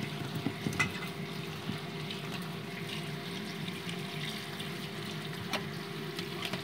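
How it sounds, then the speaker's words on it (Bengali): Boiled soya chunks rinsed under running water in a strainer, a steady low wash of flowing water with faint splashes and occasional clinks, close and unbroken, no voices. "এবার স্ট্রেনারে নিয়ে আমি ভালো করে জল দিয়ে ধুয়ে নিচ্ছি"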